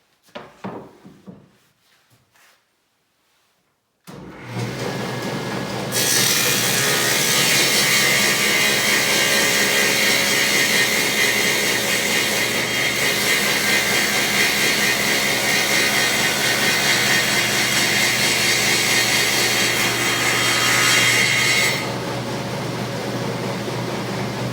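A saw cutting through a wood veneer panel for a vanity case: a few knocks, then a power saw spins up and roars loudly and steadily for about sixteen seconds before the cut ends and the motor winds down.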